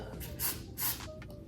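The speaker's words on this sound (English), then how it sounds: "I'm gonna go in with my Tresemme Ultra Fine Mist in 3. And I'm just gonna spray this at the top of" Tresemme Ultra Fine Mist hairspray is sprayed onto the top of a wig in two short, airy hisses, with a faint third puff after them, close and fairly soft.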